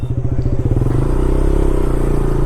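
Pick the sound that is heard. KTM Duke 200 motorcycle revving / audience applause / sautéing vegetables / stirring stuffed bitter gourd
KTM Duke 200 motorcycle revving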